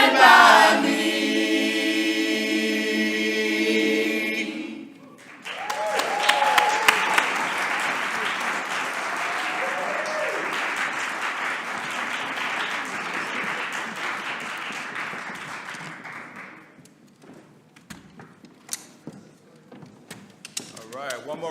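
Audience applause follows a choir performance at a community summit: a loud sustained clapping ovation that gradually fades. An announcer's voice carries over the opening seconds.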